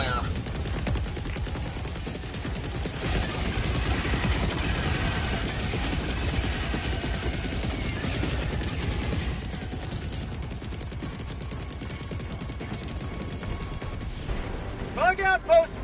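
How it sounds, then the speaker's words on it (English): An orbital barrage in the video game Helldivers 2, heard as a long, dense stretch of rumbling explosions and rapid gunfire, with game voices over the top. "Orbital barrage incoming."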